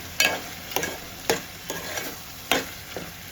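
Curry being stirred in a pan after homemade garam masala is added: about six distinct scraping strokes spaced roughly half a second apart, fairly close, with a faint sizzle underneath and no talking.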